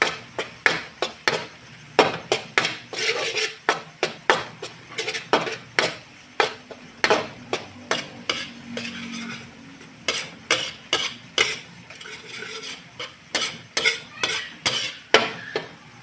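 Tomato paste, dairy cream, onion and garlic are stirred in a pan with a utensil, giving a steady run of sharp, rhythmic scraping clacks against the metal over a soft sizzle, loud and close, with no voices.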